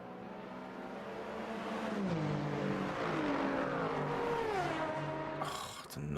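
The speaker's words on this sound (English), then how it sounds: "The noise of the Aston Martin LMP hypercar." An Aston Martin LMP hypercar passes at Le Mans with a loud, high engine note that climbs through its gears. Several rising sweeps stay close and sustained before the sound cuts away abruptly near the end.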